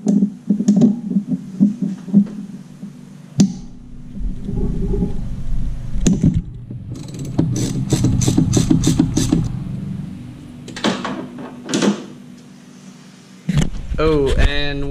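A ratchet on a long extension works loose the knock sensor bolt on a Subaru engine, giving bursts of quick, close metallic clicking separated by pauses and handling clatter.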